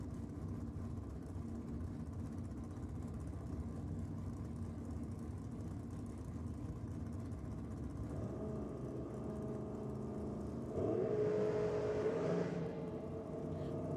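Drag racing cars, a Calibra and a hot rod, roar down the strip at Sydney Dragway in a steady loud engine drone, growing louder and harsher near the end as they pass close.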